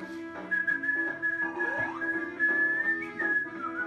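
Someone whistles the Marines' Hymn ("From the Halls of Montezuma") up close, with clear sustained notes and a few sliding pitches, steady throughout with no talking.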